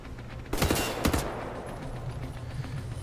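Gunfire in the Wolfenstein: The New Order video game, a sudden close burst of sharp shots followed by a couple more cracks, then fading reverberant echo over a low background hum.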